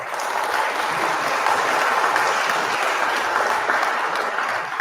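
Steady, dense applause from a crowd cheering for Kansas City, sustained and fairly loud throughout with no break.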